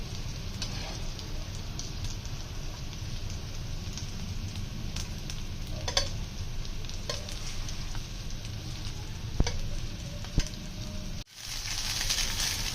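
Garlic chicken fries in a pan with a loud, continuous sizzle, broken by a few scraping stirs and clinks, and the sizzle swells briefly near the end.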